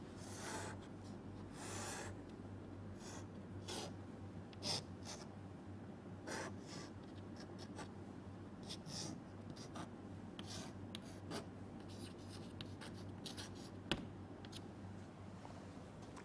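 A diagram is drawn on a board during a VLSI lecture, with faint intermittent scratchy strokes and rubbing over a low room hum, each stroke short and spaced irregularly.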